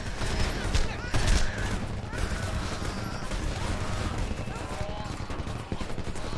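Sustained volleys of gunfire in the shooter game Homefront, a dense, rattling fusillade echoing around a house in a firefight, with shouting voices and crashes mixed in.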